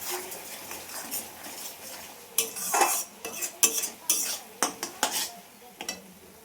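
Spice paste being cooked down for a pangas and tengra fish curry is stirred in a pan, a faint sizzle under a run of clear scraping and clinking spoon strokes against the metal.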